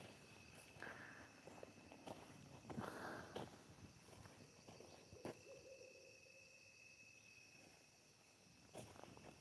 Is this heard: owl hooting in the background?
yes